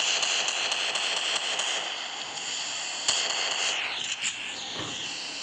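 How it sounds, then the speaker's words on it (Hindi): Gunfire in an online shooting game rattles in dense, continuous bursts with sharp pops, loud and close throughout with no pauses. "कितना गोली चलाएगा रे ये"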